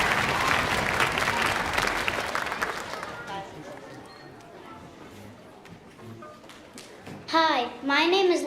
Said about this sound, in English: Can we have a round of applause for our string students tonight?